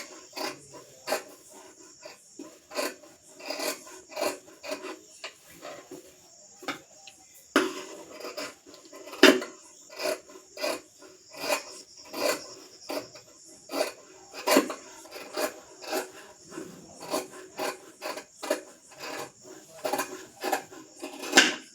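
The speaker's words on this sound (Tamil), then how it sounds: "கொஞ்சம் கொஞ்சமாக கீழே இருக்கிற துணியை நறுக்கணும்." Repeated crisp snips of scissors cutting blouse fabric, close by, in an irregular series of short cuts with brief pauses between.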